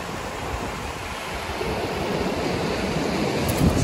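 Ocean waves washing up on a beach, a steady broadband wash of surf with wind over the microphone, building slightly louder toward the end, with no talking.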